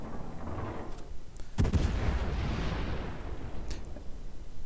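Warship guns in a naval video game fire a quick cluster of three heavy shots, followed by a deep, rolling boom that fades slowly. The blasts are loud and close, with no talking over them.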